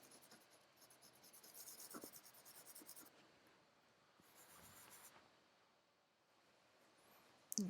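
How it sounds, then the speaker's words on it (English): The side of a pencil lightly shading paper for a portrait drawing, giving soft, quiet strokes that come in short bursts with pauses between them and a faint rustle running underneath. "Just using the side of the pencil very lightly."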